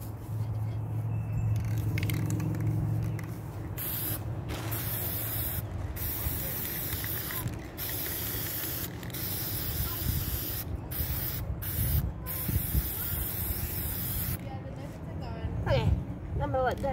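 Aerosol spray paint hisses in repeated bursts during backyard painting, each burst broken by short pauses, fairly close and steady, with a person talking faintly in the background.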